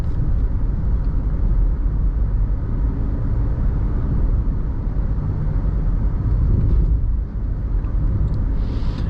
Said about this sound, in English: I like the engine note, the crisp accelerator response